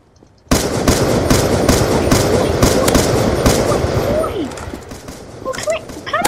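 Rapid bursts of assault rifle fire in a combat video game, loud and close, continuing for several seconds before tapering into scattered shots and effects, with a voice faintly under the din.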